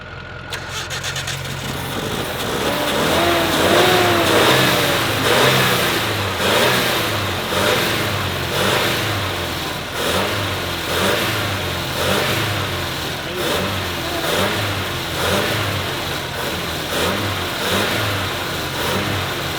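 A 1986 Ford F250 with a Super Cobra Jet engine cranks over and catches, then revs repeatedly in a steady rising-and-falling rhythm, loud and close, with a low idle underneath between blips.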